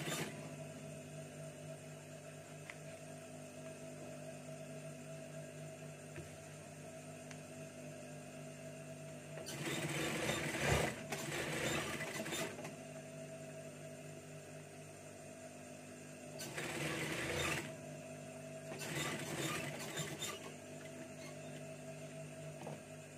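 Sewing machine stitching the collar of an oversized shirt, with a steady mechanical hum under the whole stretch and two louder bursts of fast stitching, each lasting a few seconds, close by.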